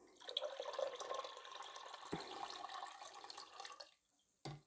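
Steady rushing tap water pours continuously into a pot, a bright splashing hiss that cuts off near the end, followed by a short clunk.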